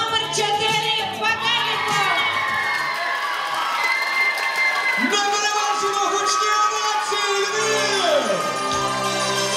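An audience at the Miss Lviv 2016 pageant cheers and applauds, a loud sustained crowd roar with shouts, while an announcer speaks over it.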